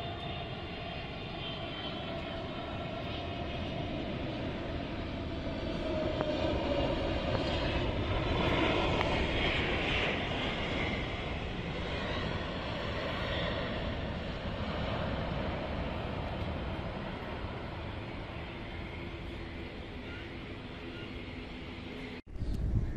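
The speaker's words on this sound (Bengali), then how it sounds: "রাজকীয় বিমান সৌদিয়া এয়ারলাইন্সের বোয়িং 777 মডেলের এই বিশাল বিমানটি এগিয়ে আসছে" A large Saudia Airlines Boeing 777 approaching to land at Dhaka gives a continuous broad jet-engine roar that swells in the middle and then holds steady, with no talking.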